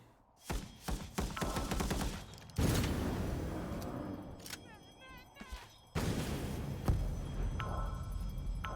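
Rapid bursts of gunfire crackle in Vampire: The Masquerade – Bloodhunt, coming in several loud volleys separated by short pauses, with voices talking between them.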